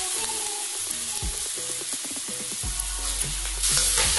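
Fried mushrooms being stirred into a spiced sauce in a pan, a steady hiss of sizzling under repeated scraping and clinking stirs, with a low rumble toward the end; nobody talks.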